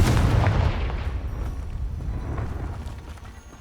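A Confringo explosive spell blast in Hogwarts Legacy: a heavy booming burst at the start that rumbles and decays over a few seconds, with no talk over it.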